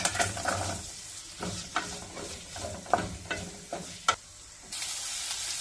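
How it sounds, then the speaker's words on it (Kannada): Chopped onions sizzle and fry in hot oil for a simple onion curry, with a steady crackle broken by several sharp stirring clinks of a spoon against the pan, close and fairly loud with no talk. "ಎಣ್ಣೆ ಬಿಸಿ ಆಗಿದ ತಕ್ಷಣ ಈರುಳ್ಳಿ ಹಾಕೋಣ"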